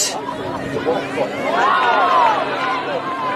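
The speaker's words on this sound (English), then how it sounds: "the crowd calling for a holding the ball" A football crowd at an under-16 girls grand final shouting for holding the ball, a sustained rising roar of many voices and whistles from spectators in the stands, loud and continuous over the whole moment.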